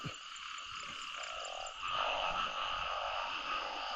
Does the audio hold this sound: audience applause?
no